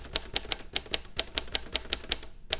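Typewriter keystroke sound effect added during a Premiere Pro text animation: about a dozen crisp, evenly spaced mechanical clacks, fairly close and clear, with no voices.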